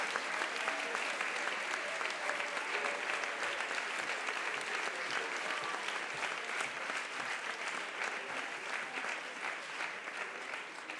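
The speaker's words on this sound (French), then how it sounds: "Je vous demande un ouragan d'applaudissements" A large audience at an eloquence competition final applauds a jury member, dense sustained clapping filling the whole stretch at steady volume with no talk over it.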